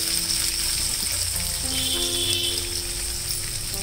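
Spices and onion sizzling in hot oil with cinnamon, cumin and bay leaves, a steady, dense crackling hiss that stays even and continuous throughout.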